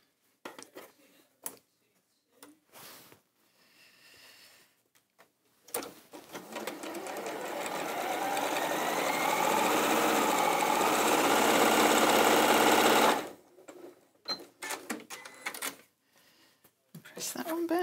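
A sewing machine stitches long fabric strips for a Moda kimono quilt, a fast even mechanical whirr that runs for several seconds, with quiet handling sounds and soft speech before and after.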